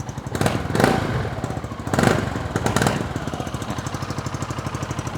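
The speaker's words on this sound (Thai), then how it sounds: "เสียงท่อผ่าก็จะประมาณนี้" Yamaha XMAX 300 scooter from 2020 with a modified straight-pipe exhaust, its engine running with a rapid, loud pulsing rumble and three sharp revs swelling early on before settling into a steady, throbbing idle, close up with no talk.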